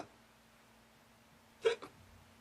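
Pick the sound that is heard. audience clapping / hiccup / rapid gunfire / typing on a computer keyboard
hiccup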